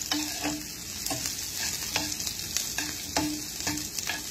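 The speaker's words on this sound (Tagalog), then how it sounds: "Yung ating bawang ay nasusunog na." Garlic frying and being stirred in a pan, a steady close sizzle broken by repeated scraping strokes of a utensil against the pan, with no talking.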